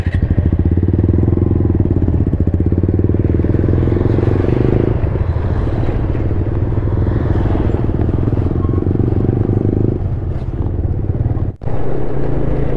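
A loud, close ATV engine runs steadily through a 4.5-kilometre ride on a mountain route, its throttle note rising and easing with a brief drop near the end, no talk over it.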